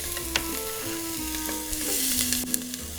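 Chopped onion sizzles in hot extra virgin olive oil with a steady close frying hiss, broken by a few sharp utensil clicks and stirring sounds, with no talking.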